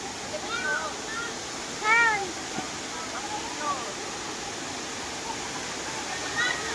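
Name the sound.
Hinulugang Taktak waterfall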